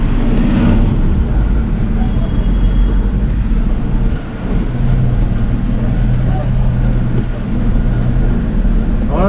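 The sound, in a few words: vehicle driving on a narrow mountain road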